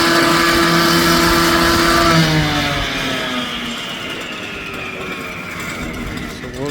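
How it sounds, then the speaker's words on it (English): A chainsaw is pulled into life and runs at a steady, loud drone on a town-centre pavement works site, its harmonic whine settling lower after a couple of seconds with no talk over it. "Getting the chainsaw started."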